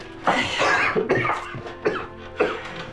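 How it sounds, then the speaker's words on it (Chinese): A person coughs four times in short, harsh bursts spaced about half a second apart, close and clear with no talk over them. "现在又加上了咳嗽"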